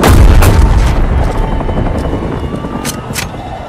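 A destroyed target explodes in Modern Warfare: a heavy, loud boom rolls out at once and decays into a long rumbling roar, with a helicopter-like drone underneath.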